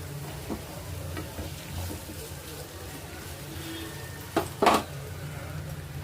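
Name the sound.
cloves, cinnamon, onions and green chillies frying in a pan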